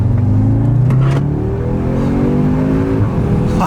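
Audi S3 with factory exhaust revving up hard, engine pitch climbing smoothly through a quick automatic shift and rising again, loud and close throughout.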